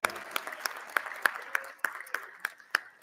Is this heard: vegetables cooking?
no